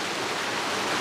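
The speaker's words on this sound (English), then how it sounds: "And the sound of water, it's so healing" Flowing water at Epcot in Disney World, a steady, close broadband rush like a fountain or small waterfall, continuous and fairly loud throughout with no voices.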